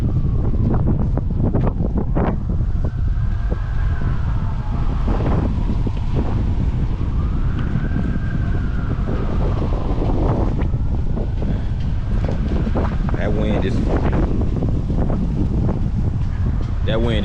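Strong wind roars continuously across the microphone on an outdoor city walk through the Alabama State University campus in Montgomery, Alabama, loud and steady throughout with gusty buffeting.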